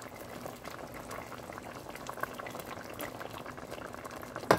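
A pot of curry bubbles at a steady rolling boil as dried chapa shutki fish and chopped green chilies go in, a soft, constant simmering hiss with a small splash at the end.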